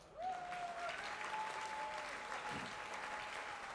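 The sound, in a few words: applause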